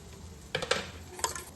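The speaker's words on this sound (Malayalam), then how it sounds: "എഗ് യോക്കിൽ കുറച്ച് ഉപ്പ് കൂടെ ആഡ് ചെയ്തിട്ട് ജസ്റ്റ് ഒന്ന് മിക്സ് ചെയ്യാം." Egg yolk being whisked with a pinch of salt in a bowl, heard as two short bursts of quick clinking and scraping close by over a quiet background, with no voices.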